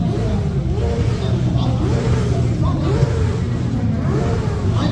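A Kawasaki Ninja 1000 motorcycle engine revs in repeated rising and falling surges at a group bike ride, loud and close, with a steady low engine rumble throughout.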